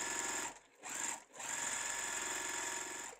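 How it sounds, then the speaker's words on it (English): Sewing machine stitching quilt blocks together, a loud, close, continuous whirring run broken by two brief pauses before it resumes and carries on steadily. "So we're going to sew these on like this."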